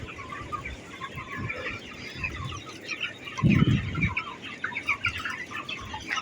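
Broiler chickens about 23 days old in a semi-controlled poultry shed, soft overlapping clucks and murmurs from a flock, with a louder burst of nearby clucking midway.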